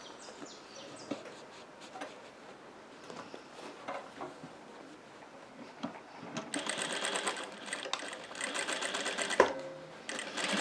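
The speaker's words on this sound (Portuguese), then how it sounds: "E vamos continuar a costura, fazendo a costurinha bem na beiradinha aqui" A sewing machine stitches the seam of a glasses pouch, a quiet start followed by a steady, rapid mechanical whirr that runs close and loud through the second half with small clicks.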